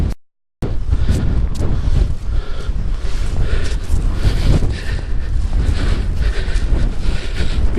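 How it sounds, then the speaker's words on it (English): Cold wind buffets the microphone on a coastal walk from Dunbar to Dunglass, a loud, continuous low roar with gusting surges after a brief dropout near the start; nobody speaks. "Although it's gorgeous sunshine, it's just a cold wind, that's all."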